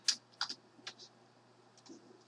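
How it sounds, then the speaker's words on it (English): Scattered keystrokes on a computer keyboard, a quick cluster of clicks followed by a few sparser, softer taps, fairly quiet and close with no talking. "I was typing in just to see"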